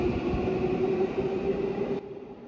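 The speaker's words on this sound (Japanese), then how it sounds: "まずは乗ってきた列車を見送りたいと思います" A Tokyo Metro Namboku Line subway train pulls away from a platform with screen doors, a steady mechanical whine and rolling hum that drops off abruptly near the end.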